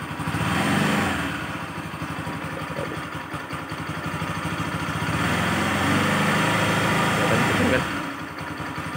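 Bajaj Pulsar 200NS motorcycle engine running close by, idling steadily and then revving up hard through the middle before settling back, with someone talking over it.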